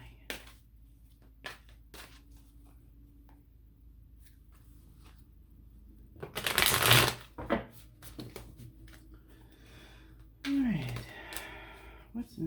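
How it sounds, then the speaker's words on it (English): Tarot cards shuffled and tossed about on a table: soft, sporadic ticks and rustles, then a short, loud burst of riffling and slapping cards about halfway through, with a faint hum underneath. "Throwing my cards around here."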